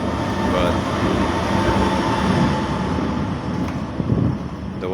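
Trams rumble across a bridge above the flooding Danube in Bratislava, a dense, steady low roar blending with rushing water and some wind buffeting on the microphone.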